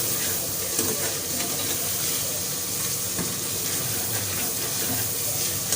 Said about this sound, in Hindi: गोश्त को थोड़ा सा फ्राई करेंगे